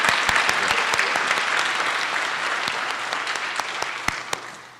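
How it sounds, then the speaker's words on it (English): Graduates of a university flight academy are applauded at their graduation ceremony, with a full, continuous crowd clapping and sharp individual claps standing out. It fades slightly toward the end. "Oh, do we clap for JP again?"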